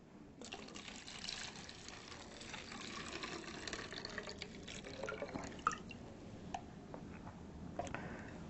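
Water runs and trickles steadily into a bottle, filling it about three-quarters full, with drips and small splashes throughout, fairly quiet and without voices.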